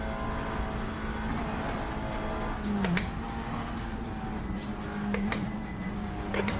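Sustained drone of an Audi RS3 TCR race car engine in a racing video game on the Nordschleife, a steady note with a quick dip and shift around midway and scattered sharp ticks, no voices.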